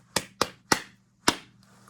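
Four crisp handclaps tap out a rhythm in a music lesson: three fairly evenly spaced, then a gap before the fourth, loud and near over a faint steady hum.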